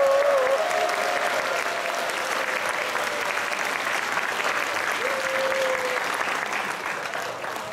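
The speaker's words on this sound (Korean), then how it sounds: "큰 박수와 환호성 부탁드리겠습니다" Sustained, dense applause from an audience at a Catholic choir festival in Jeju, steady and loud across the whole stretch with a few brief cheers or whistles rising above the clapping, then easing slightly at the end.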